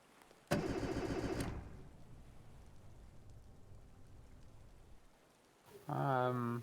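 In Stormworks, a ship's engine is throttled up. It roars in suddenly, runs loud for about a second, settles into a lower rumble over a rain-like hiss, then swells again near the end.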